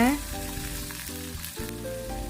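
Shrimp and squid stir-fried with chopped garlic in a hot pan give a continuous close sizzle with light scraping of stirring and no talking.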